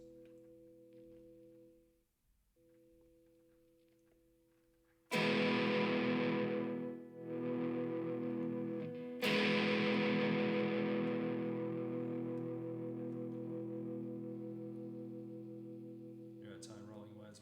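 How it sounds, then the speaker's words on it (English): Electric guitar built from an ST-style kit, played on the bridge pickup through a distorted, effects-laden amp: a quiet hum, then two loud strummed chords about four seconds apart, each ringing out and sustaining slowly into a fading tail. "So first we're going to start on the bridge pickup."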